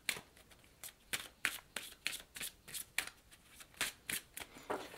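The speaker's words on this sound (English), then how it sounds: "I will just be doing a quick overhand shuffle to put my energy in specifically the questions I'm asking" Tarot card decks being shuffled overhand, a quick run of crisp riffling bursts of papery card slaps in an irregular rhythm, close and fairly quiet with no talking.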